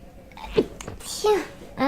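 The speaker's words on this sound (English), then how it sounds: "Excuse me for sneezing." A single sharp sneeze bursts out mid-clip during a relaxed drawing stream, close and abrupt, followed by breathy vocal sounds and a short exhale.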